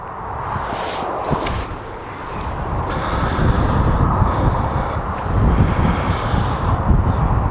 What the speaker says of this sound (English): Wind's blowing quite strongly, I have to say.